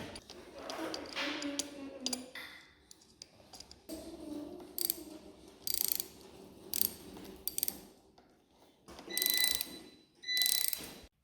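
A 10 mm socket wrench ratchets in quick clicking bursts while removing the brake lever from a 2022 Kawasaki KX112 dirt bike. The bursts are separated by short pauses and faint handling noises.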